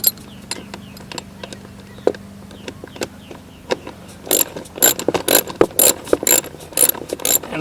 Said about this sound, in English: Use the use the ratchet, tighten it up